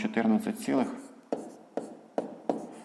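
Numbers are written by hand in a fifth-grade maths exercise, a few short scratchy pen strokes in an even rhythm, close and faint, following a man's speech at the start.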